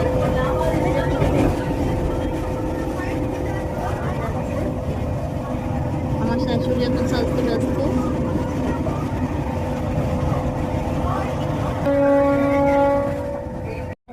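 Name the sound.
train departing, riding on a train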